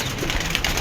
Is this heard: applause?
no